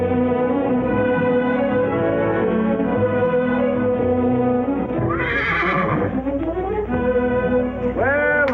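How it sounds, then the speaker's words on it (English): A horse whinnies loudly over a continuous, music-heavy film scene set in an old Western town, with a hint of hooves clip-clopping underneath. "Nice little horse you got here, Sonny."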